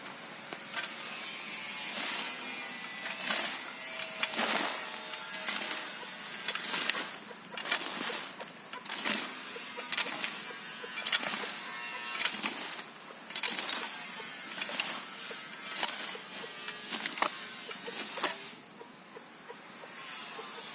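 A manual weeding tool cuts weeds in a dusty, dry field near Melur in Madurai district. Close, repeated scraping and rasping strokes come in an irregular rhythm over a soft background hiss.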